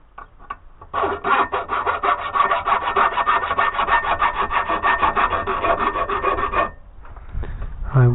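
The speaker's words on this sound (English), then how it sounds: "I think it is best done with the files, because with the grinder I could quickly take away too much material." A hand file rasps back and forth across a metal part from a broken lawnmower in a steady, rapid run of close, loud strokes lasting several seconds, then stops, followed by a few lighter scrapes and handling noises.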